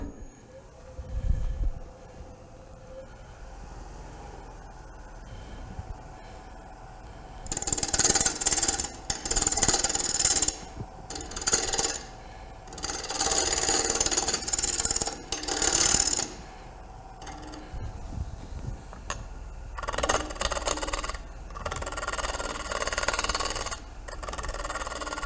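Wood lathe flattening a workpiece to form a tenon at a live turning demonstration, with bursts of rough cutting and chattering scraping that come and go over a quiet motor hum, moderately close.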